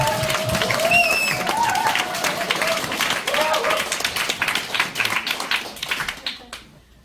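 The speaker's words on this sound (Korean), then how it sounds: "전부 박수 한번 치세요" An audience at a barefoot-walking lecture and small concert claps together in a loud, dense burst that thins into scattered claps and fades out, with a few voices heard over it.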